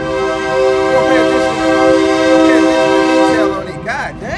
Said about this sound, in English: Got a train coming through.